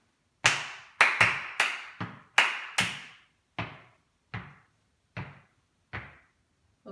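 Claps from a community choir rehearsing a syncopated rhythm, about a dozen sharp, crisp claps at uneven spacing, some in quick pairs, close and fairly loud, each ringing briefly into a quiet room with no talk.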